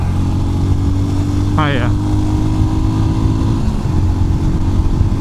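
Royal Enfield Scram 411 scrambler motorcycle engine held at full throttle in fourth gear while climbing, a steady loud drone with wind rush; a rider's voice speaks briefly over it.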